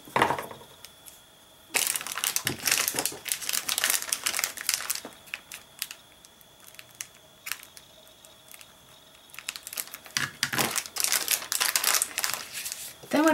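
Paper crinkles and rasps close up as a bone folder presses it down and it is peeled away, in bursts of crisp rustling separated by quieter pauses.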